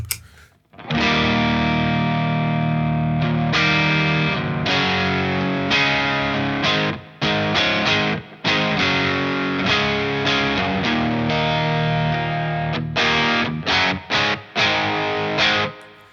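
Electric guitar through a Friedman Small Box overdrive pedal in low-gain mode plays strummed chords and riffs, mild overdrive, gritty but not heavily saturated, loud and continuous with brief pauses.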